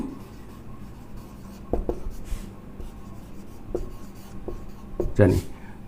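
Chalk or marker writing on a board during a chemistry lecture on quantitative chemistry, with scattered faint scratching strokes over room hiss and brief background voice.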